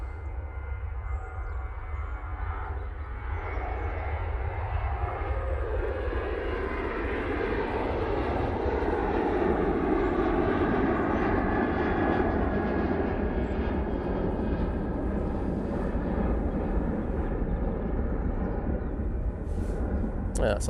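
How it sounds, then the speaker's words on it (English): A jet airliner on its takeoff roll at Manchester Airport, bound for Alicante, makes a loud, continuous engine roar that builds and holds steadily for around twenty seconds, heard from outside the airfield. "Jet 273 now on the roll."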